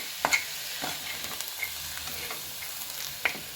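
Spices with peas and tomato sautéed in a pan for a fresh turmeric dish, giving a soft steady sizzle with a few sharp scraping stirs of a spoon, near and fairly quiet, with no talking.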